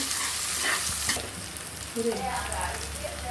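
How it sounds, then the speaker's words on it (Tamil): Onion, coriander and curry leaves sautéing in hot oil for a lentil rice dish: a loud continuous sizzle with occasional stirring scrapes, close by and without talk. "வெங்காயம், கொத்தமல்லி, கருவேப்பிலை எல்லாம் வணக்கிக்கலாங்க."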